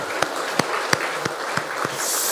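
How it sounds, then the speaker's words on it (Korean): A church congregation applauds, with a few louder claps landing in a steady rhythm over a soft continuous patter of clapping. "우리 하나님께 큰 영광과 감사의 박수를 올리겠습니다"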